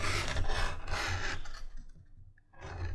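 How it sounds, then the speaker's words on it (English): An edge beveler rasps along the edge of a leather sheath for a child's wooden pirate sword, making close, dry scraping strokes. The strokes run continuously, then ease off briefly before resuming. "take the edge beveler all the way around, front and back, just to take that corner off"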